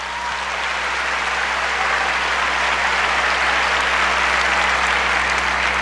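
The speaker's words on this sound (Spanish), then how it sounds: "Un aplauso fuerte para el hermano." A church congregation applauding for a brother, a loud, dense and sustained burst of clapping that fills the whole stretch, with a low hum underneath.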